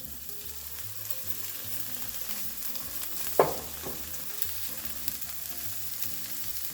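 Tomatoes frying with onions and garlic in a pan, a steady close sizzle with a brief clatter of stirring midway, no voices over it.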